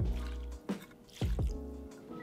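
Water is poured from a half-cup measure onto soaked almonds or cashews for vegan yogurt, a soft, close liquid splash and dribbling in a few quiet bursts.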